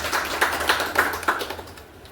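A small audience at a business meeting claps in a ragged, uneven rhythm, close and moderately loud, thinning out toward the end.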